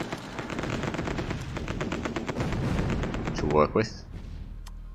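Rapid artillery and machine-gun fire rattles steadily in the strategy video game Supreme Ruler Ultimate, dense repeated bursts running under a man's speech before cutting off near the end.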